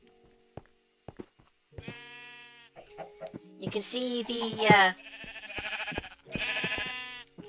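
Sheep bleating in a sheep pen within a Minecraft-style city build, several wavering bleats of varying pitch following one another, some overlapping, with a voice talking at the start.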